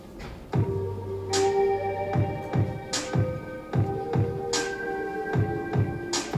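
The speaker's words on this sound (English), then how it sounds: "he played the snare and the clap sound at the same time" Hip hop beat with a snare and a layered clap struck together on the backbeat, punchy repeated hits about every second over a low bass and sustained melodic tones, steady and upfront with no talking.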